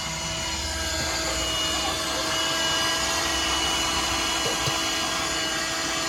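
A vacuum cleaner runs with a steady, loud whining drone while a car interior is being cleaned, unbroken for the whole stretch with no voices.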